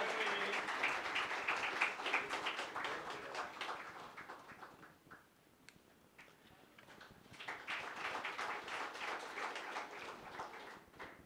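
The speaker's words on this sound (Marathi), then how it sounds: "विनायकजींसाठी देखील टाळ्यांचा कडकडाट." Applause from the audience at a book launch ceremony for an honoured guest, a steady patter of clapping that swells, dips midway, then rises again, fairly faint and distant.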